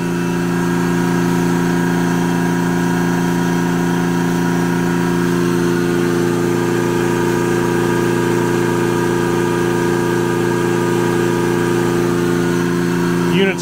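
Watermaker unit with its boost pump running aboard a Tollycraft 61 yacht, a loud steady mechanical hum and drone that holds unchanged throughout at close range.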